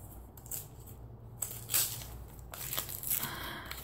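A pair of scissors snips through packaging or paper in a few short, crisp crunching cuts, close and quiet against a soft background hiss, with no talking.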